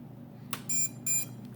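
A Horizon Hobby AH-64 Apache RC helicopter gives startup beeps: a short click followed by two clear electronic tones, close and fairly quiet over a faint background hum.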